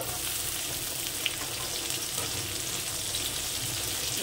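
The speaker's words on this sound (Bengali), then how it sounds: "হালকা একটু চাপ দিয়ে শাপলা কাটা কড়াইতে দিয়ে দেবো।" Chopped water lily stems fry in a wok with a soft, continuous sizzle and light crackle, close and fairly quiet, plus an occasional faint clink, and no voices.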